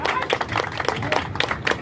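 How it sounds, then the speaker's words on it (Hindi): A class at a traffic awareness program claps together indoors, a brief burst of close, loud, uneven hand claps with a few voices mixed in. "तालियां बजती रहे एक्सेल क्लास।"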